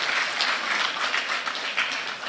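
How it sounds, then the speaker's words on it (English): Conference audience applauding the organizers at an event on the social license to operate; a steady, dense wash of many hands clapping fills the whole stretch at even loudness. "And I think that the organizers deserve a round of applause from us."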